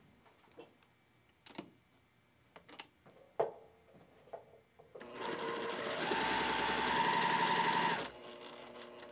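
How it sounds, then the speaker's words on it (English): A sewing machine stitches a quilt block, a steady loud mechanical whir running continuously for about three seconds after a few scattered clicks and taps of handling and pins. "So let's sew."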